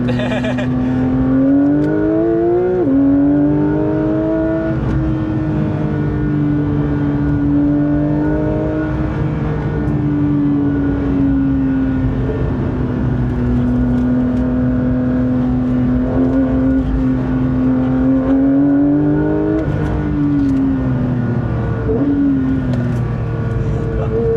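A Porsche 992.1 911 GT3 engine drones steadily at high revs, pitch rising and dipping as gears change, loud and close throughout, with a rushing wind noise underneath.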